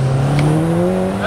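Tuned Cupra Stage 4 car spinning its wheels, the engine holding a loud, steady rising drone with a brief tire squeal, close and continuous.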